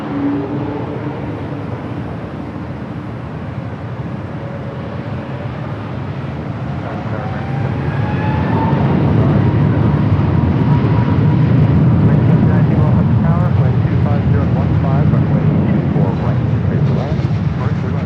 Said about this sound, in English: This takeoff is Delta Airlines 311 taking off to Kailua, Kona on the A321neo.